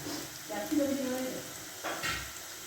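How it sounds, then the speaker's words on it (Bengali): Food frying in a pan for a home Bengali chicken and capsicum dish, with a soft sizzle and a few stirring scrapes running under a voice talking nearby. "এটাকে ভালো করে ভাজবি, ভাজছি।"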